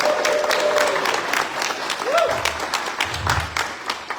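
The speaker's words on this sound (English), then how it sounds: "you can clap and cheer. Clap and cheer." Seminar audience at a Corvus Belli tabletop gaming session clapping steadily, a dense wash of many hands with a few whistles and shouts rising over it, fairly loud and continuous.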